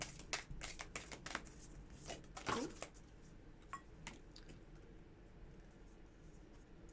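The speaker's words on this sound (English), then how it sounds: "So I'm just going to pull some oracle cards as well." Oracle cards are shuffled by hand in a quiet room, giving a series of soft, crisp riffling and tapping bursts early on that thin out into sparse light card clicks.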